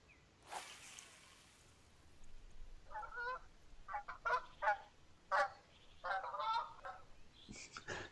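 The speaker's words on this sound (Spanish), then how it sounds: "Se me está riendo el pato ahí, pato Lucas ese." A duck quacks in the Fishing Planet video game at the Delta San Joaquin fishing spot, a series of nasal, clustered calls in uneven bursts that sound moderately close over faint outdoor ambience.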